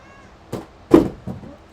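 Indoor cat Tango fussing nearby with three short, separate vocal bursts, the middle one loudest, in a quiet room with no talking.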